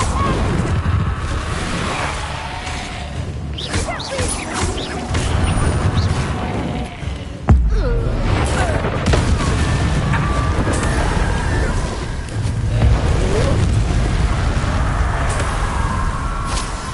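A Confringo explosion spell in Hogwarts Legacy sets off loud, rumbling blasts over continuous combat noise, with one sharp burst near the middle followed by a heavy booming roar.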